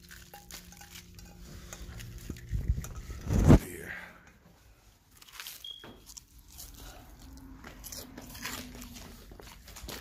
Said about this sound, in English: Oh, you hear that crunch?